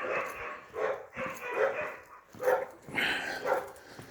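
Dogs bark and yip in repeated short bursts, fairly close, with some whining between the barks.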